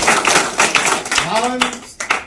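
An audience at a political rally in Okcheon claps in a brisk burst of applause, the scattered sharp claps running beneath a man's continuous speech.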